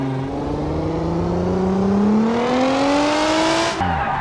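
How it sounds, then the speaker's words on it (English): A custom turbocharged car engine in BeamNG.drive pulls steadily upward in pitch under acceleration, with a whirring turbo note layered on top, then drops off sharply near the end; loud and close, no voices. "And we have some nice turbo sounds to go along with it"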